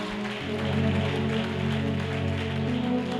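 A church congregation applauds Jesus, a dense, steady wash of many hands clapping heard together with music, continuing at an even level.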